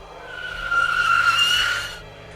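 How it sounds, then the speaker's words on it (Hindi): A car pulls up and stops outside a house, tires squealing in a rising, sharp skid that lasts about a second and then cuts off. "गाड़ी आकर ठीक घर के बाहर रुकी"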